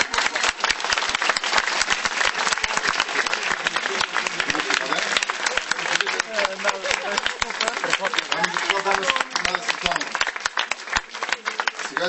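Sustained audience applause at a stage presentation event, dense rapid clapping from a large crowd that holds steady and loud for about twelve seconds, with voices mixed in.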